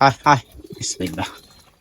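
Pigeons in a loft after rain coo in short, low, close bursts, with a voice talking briefly near the start.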